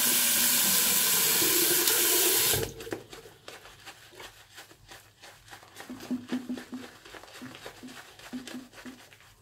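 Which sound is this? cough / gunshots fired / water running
water running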